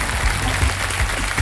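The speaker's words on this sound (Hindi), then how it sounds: "जोरदार तालियों के साथ मैं चाहता हूं कि इनका स्वागत किया जाए।" A TV studio audience applauds on the game show Kaun Banega Crorepati, in a brief, loud, dense burst of clapping that stays steady for the moment heard.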